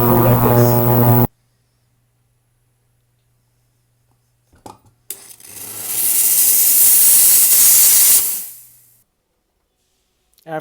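A jeweler's steam cleaner blasts a vintage style ring with a loud, close hiss lasting a few seconds that then tapers off. Brief clicks come before it, and a short burst of music opens the clip.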